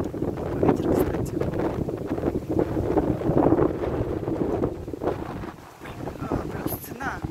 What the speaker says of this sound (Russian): Ветер, кстати.